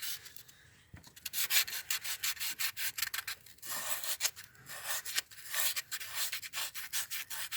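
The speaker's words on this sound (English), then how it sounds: "I just want to get a nice even surface." Hand sanding with sandpaper on an engine block surface during a water pump job: quick, close, raspy back-and-forth strokes in uneven bursts, with brief pauses between runs.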